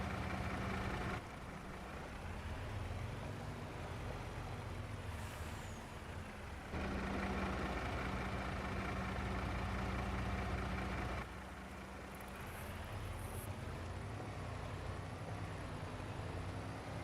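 A truck in Farming Simulator 25 idles with a steady low engine rumble and a constant drone, broken briefly by faint hissing bursts like air brakes, with no talk.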